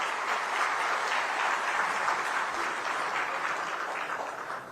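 Audience applause at a Pravasi Bharatiya Divas event in Odisha, a dense, sustained crowd clapping that stays loud and fades slightly at the end.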